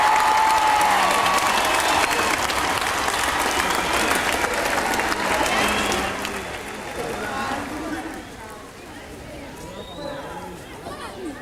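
A stadium crowd at the 1997 Newcastle Knights grand final win celebrations claps loudly for several seconds, then the applause fades to a lower level as someone speaks over it.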